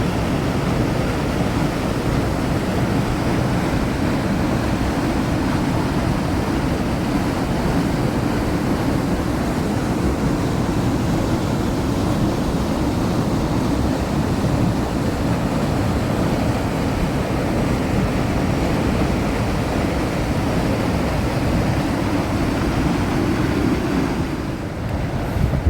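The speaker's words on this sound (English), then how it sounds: "this is the pool at the bottom of that waterfall" A waterfall at Little Qualicum Falls campground pours into the pool at its base, making a steady, dense rushing roar that stays constant and close throughout with no voices.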